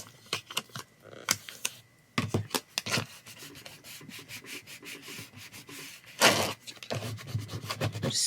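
Hands rubbing and smoothing paper decoration down onto a journal page, producing close, dry brushing and swishing strokes in irregular bursts, some louder sweeps among softer rubs, with no speech.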